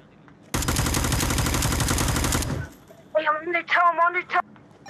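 Rapid automatic gunfire rattles loudly for about two seconds in the Onward VR shooter game, followed by a man's speech shortly after.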